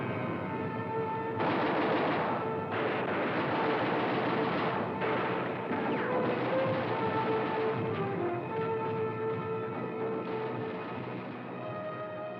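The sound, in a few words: German gunfire and artillery raking the D-Day beach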